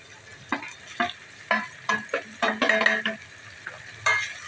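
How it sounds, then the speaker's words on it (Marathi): Bitter gourd pieces stir-fried in onion-tomato masala over medium heat, a spatula scraping the pan in a run of distinct, fairly close strokes over a soft background sizzle, with no talk. "आता ह्याच्यामध्ये आपण ही कडू कारली घालून घेऊया"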